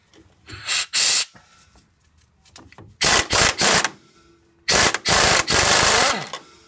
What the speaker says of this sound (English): I'm just going to grab the impact, because this is old and probably rusted right in there.